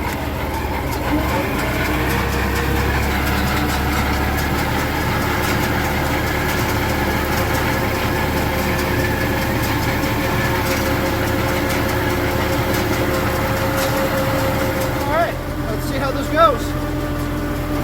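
Old hay baler running off a tractor PTO in a mint field, a loud continuous engine and machinery drone with a steady mechanical rhythm throughout, close by, with a person talking over it.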